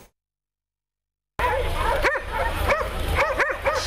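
Hunting dogs bark in a training session against a bear, a burst of repeated sharp barks and yips at close range, starting abruptly after a moment of silence with several overlapping dogs.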